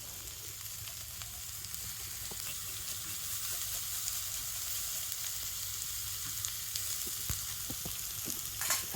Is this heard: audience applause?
no